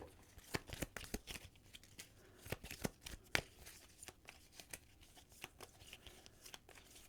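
Cards are handled during a solo play of the board game Helionox: The Last Sunset, with soft snaps, slides and flicks arriving in quick irregular bursts, close and quiet with no talk.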